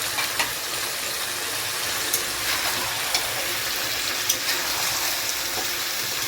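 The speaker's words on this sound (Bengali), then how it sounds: "এবার এর মধ্যে আমি কেটে রাখা পেঁয়াজগুলোকে অ্যাড করে দেবো।" Chopped onions frying in a pan while Bihari chicken curry is cooked, giving a steady, fairly loud broadband sizzle with small crackles and pops throughout.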